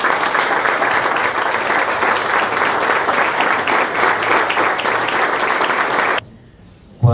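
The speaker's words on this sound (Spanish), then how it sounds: "les pido un aplauso enorme a ellos." Sustained audience applause at an event opening a new tourism office, a loud dense wash of many hands clapping for several seconds before it cuts off abruptly to near quiet.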